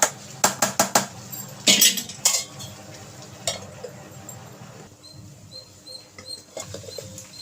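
Potato fry being stirred in a metal pan with a spoon, several quick clattering scrapes and taps close up at first, then lighter scattered clinks over a low background.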